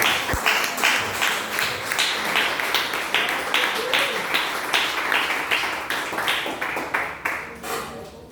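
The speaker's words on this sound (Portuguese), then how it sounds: "Dê a salva de palmas para Jesus." A church congregation gives a round of applause for Jesus, loud, fairly rhythmic clapping close by that holds a steady beat and tapers off near the end, with voices mixed in.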